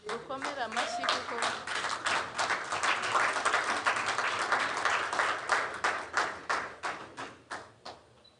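An audience at a national foundational learning campaign event bursts into applause that starts loud and dense, then thins into separate, fading claps toward the end, while a speaker's voice comes through near the beginning.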